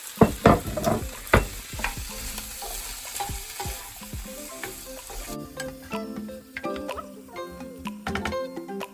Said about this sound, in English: you can hear, because the juices from the tomatoes, the pan sizzling more